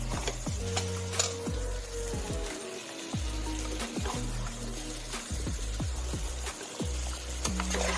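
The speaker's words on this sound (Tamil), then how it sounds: "சிக்கனை போட்டு நல்லா மிக்ஸ் பண்ணலாம்." Chicken is stirred into masala in a pan for a fresh cream chicken curry, with a low sizzle under repeated scraping and clanking strokes of a spoon against the pan.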